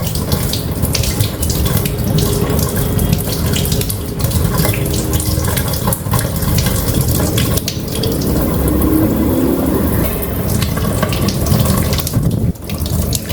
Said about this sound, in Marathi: मी शक्यतो असं नळाखालीच धुवून घेते व्यवस्थित